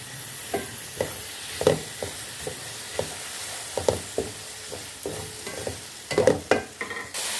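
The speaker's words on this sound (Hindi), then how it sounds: "वो इसमें हम डाल लेंगे और इसको हम अच्छे से मिक्स कर लेते हैं।" Chopped tomatoes get stirred into potato and cauliflower frying in a pan, a soft continuous sizzle punctuated by regular spatula scrapes and knocks, growing busier and louder toward the end.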